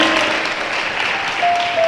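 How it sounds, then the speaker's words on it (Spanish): A church congregation applauds, a continuous, loud wash of clapping that holds steady throughout, with a faint sustained tone underneath. "¿Cuánto le puedan dar un fuerte aplauso al Señor?"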